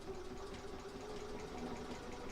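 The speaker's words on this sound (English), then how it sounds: "I'm just sewing my 1/4 inch seam." Sewing machine stitching a quarter inch quilt seam, a faint, steady rapid hum running throughout without any talk.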